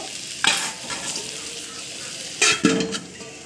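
Pointed gourd and potatoes stir-fried with shrimp in a pan, a steady low sizzle broken by a few scraping stirs of a spatula against the metal, close up and without talk.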